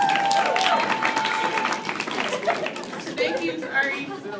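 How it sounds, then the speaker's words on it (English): Applause rises for a spoken-word performer named Keith at a campus event, a dense patter of clapping from the crowd with chatter and a few chuckles mixed in, fading slightly as voices take over. "Let's give it up for Keith, aka Fuzz."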